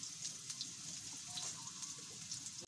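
Potatoes frying in hot oil with panch phoron spices, a soft, steady sizzle with faint crackles running throughout, fairly quiet.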